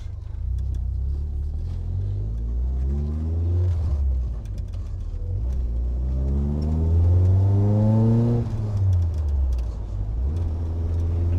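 A VW Mk1 Golf CTI with a 1.8 K-Jet engine revs up close by, its droning note climbing steadily through two long pulls before dropping back.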